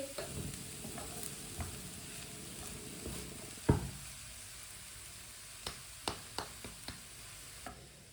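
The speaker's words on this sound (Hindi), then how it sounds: "चिकन को भी 1 मिनट के लिए पका लेते हैं चम्मच चलाते हुए।" Chicken frying in a pan under a low, steady sizzle, while a spoon scrapes through it and lands several sharp taps against the pan, close and fairly quiet.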